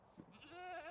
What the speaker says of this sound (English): Oh my god, the goats.